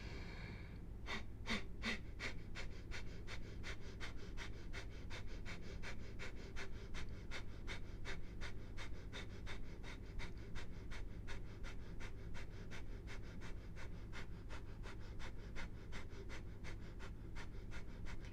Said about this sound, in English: And we begin Kapalabhati breathing, inhaling and exhaling.